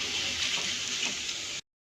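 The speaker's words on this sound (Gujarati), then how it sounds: "આ રીતે બધા જ પૌવાને આપણે તળી લઈશું" Poha (flattened rice) deep-frying in hot oil for a festive Diwali snack, giving a steady, close, dense sizzling hiss that holds evenly for about a second and a half and then cuts off abruptly.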